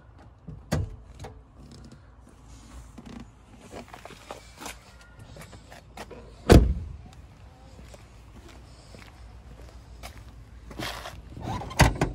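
On a Fiat 500, the hood is released and lifted, with scattered close clicks and rustles leading to one sharp, loud latch clunk midway and a few more knocks near the end, no talk.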